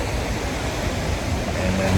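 Rushing water at Iguazú Falls on the Argentinian side, a steady dense roar of a waterfall heard from a nearby walkway, continuous and broadband with no pauses.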